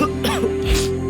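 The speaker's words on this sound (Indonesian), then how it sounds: "Masih batuk?" A single sharp cough rings out close by at the start of an Indonesian ad for herbal cough medicine. A steady tone and faint music sit beneath it.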